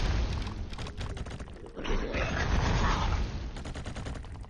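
Explosions in a roguelike video game roll out as a dense, loud barrage of booming blasts and crackling bursts that fill the whole stretch without a break.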